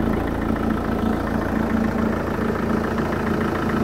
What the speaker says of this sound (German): Motor funktioniert einwandfrei.